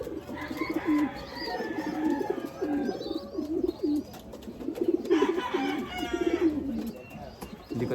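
A racing pigeon coos close by in repeated low, throaty phrases, with faint chirps and some background talk around it.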